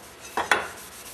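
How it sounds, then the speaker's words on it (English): A scuff pad rubbed against rust inside a metal tank on a Meyer E 47 rebuild, giving two short close scraping rasps in quick succession. "Inside the tank, yeah, there's rust, and we'll just use the scuff pad."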